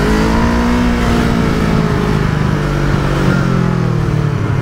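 A motorcycle engine accelerates, loud and close, with a steady rough drone and a slowly shifting pitch that fills the whole stretch without pauses.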